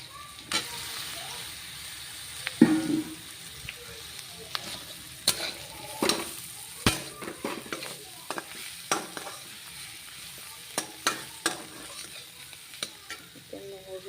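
Potatoes frying in a pan with turmeric, a soft steady sizzle under repeated scraping and clinking stirs from a spoon, close and fairly quiet, with brief murmured speech at times.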